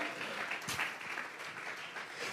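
Church congregation applauding as an offering of praise, a dense steady wash of clapping throughout with a faint voice briefly audible beneath it.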